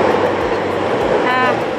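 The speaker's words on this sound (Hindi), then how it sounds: "ये देखो दोस्तों, मेट्रो आ चुकी है।" Loud rumbling train noise filling the clip, a steady roar of a Delhi Metro train arriving close by at Tilak Nagar station, with a faint rising whine.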